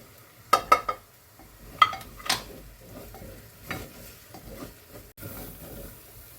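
Powdered chili, coriander, garam masala and pepper sizzle softly in a pan for a beef curry, with a few sharp utensil clinks near the start and scraping stirs throughout.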